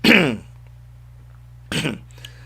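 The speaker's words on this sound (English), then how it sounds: "Whether my enemies are sending cough to me." A man coughs and clears his throat twice, one rasping burst at the start and a shorter one a second later, close and loud against quiet hum.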